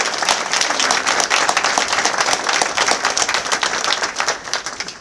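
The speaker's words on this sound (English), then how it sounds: "So would you please give them a round of applause." Loud, close applause for the Cyprus Police Band at an outdoor UN medal parade in Cyprus, many hands clapping in a brisk, crackling patter that carries on steadily for several seconds without talk.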